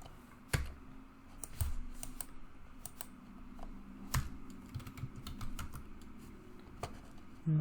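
Irregular bursts of keystrokes on a computer keyboard as a password is typed, close and fairly quiet, with a few sharper key hits standing out in a still room.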